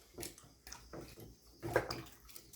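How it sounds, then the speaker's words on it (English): Tap water runs and splashes during handwashing at a sink in a pottery studio, moderately loud with brief surges and gurgles, no talking. "Let's wash hands."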